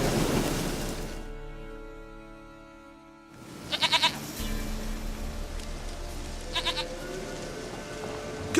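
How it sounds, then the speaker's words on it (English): In The Witcher 3, a goat bleats in a short burst twice over a rain-like wash of ambient game noise, fairly quiet. "goat of mine, dearest, sweetest goat."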